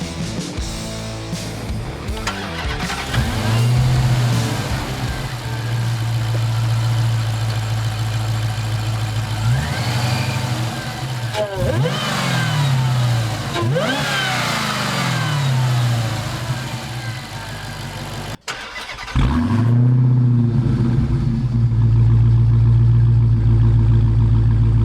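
A 2020 Dodge Charger SRT Hellcat Widebody's 6.2-liter supercharged Hemi V8 idles with a deep rumble, then is blipped through several sharp rising-and-falling revs. It drops out briefly, then returns to a loud, close idle.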